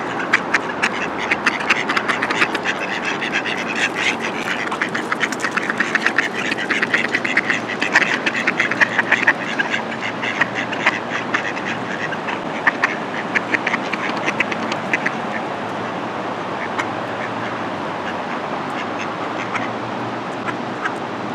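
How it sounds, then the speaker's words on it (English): A dense, continuous chorus of many ducks quacking close by, a loud overlapping clamor that barely lets up. "I got ducks."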